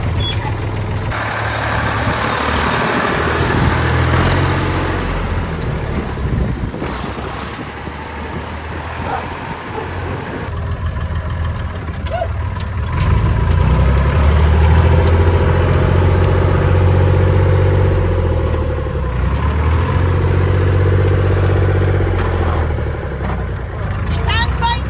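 Farm tractor engine running steadily at idle, a low continuous rumble close by, with people talking over it throughout.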